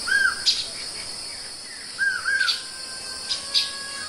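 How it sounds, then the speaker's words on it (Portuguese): Birds call and sing in the Paraná river wetlands, with repeated clear chirps and whistled notes coming in a few spaced bursts over a quiet outdoor background with no talking. "Estamos no paraíso das aves."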